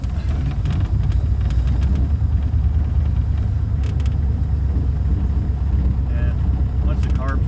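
A 1947 Cadillac four-door sedan engine running after a cold start, a loud, steady, low idle rumble throughout with faint clicks near the end.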